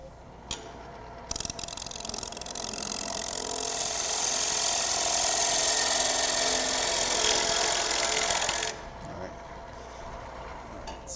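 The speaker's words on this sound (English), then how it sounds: "That's a good cut with the Ellsworth gouge" A wood-turning lathe cut made with an Ellsworth gouge during a live turning demonstration, a steady broadband hiss of the tool shearing spinning wood that swells and holds for several seconds before stopping, fairly close and loud.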